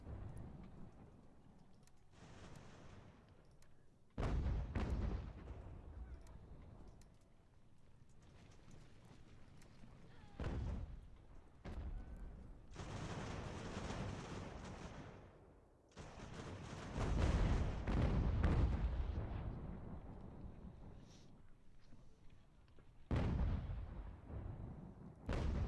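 Artillery bombardment in the video game Ultimate General: American Revolution, with heavy booming blasts landing at irregular intervals, some close and loud, others duller, over a continuous rumbling battlefield din.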